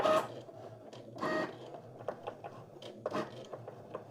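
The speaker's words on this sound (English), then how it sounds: "So I think it's going to write first or draw first, and then it's going to cut second." A Cricut cutting machine draws on a glitter-insert card, its carriage making a quiet whirring hum with small clicks and brief motor surges as the pen moves.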